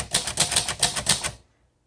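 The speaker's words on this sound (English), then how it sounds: "Fantastic typewriter." A 1957 Royal Quiet De Luxe manual typewriter clacks through about eight quick, even keystrokes up close, then falls silent.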